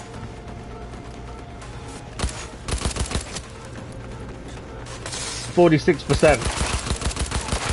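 Assault rifle fire in Cyberpunk 2077 rattles in short bursts, scattered shots early then a louder rapid volley near the end, mixed with game effects and a voice talking.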